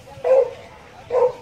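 A dog barks nearby in an outdoor park setting among trees, two short bursts about a second apart, fairly loud against quiet background.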